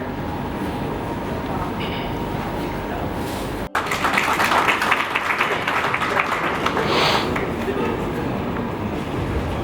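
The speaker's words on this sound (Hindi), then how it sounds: "जोरदार तालियां बजती रहनी चाहिए" Loud, sustained applause for a former MLA at a Chamber of Industries & Services gathering in Saharanpur, a dense wash of clapping that swells after a brief break and continues for several seconds with voices mixed in.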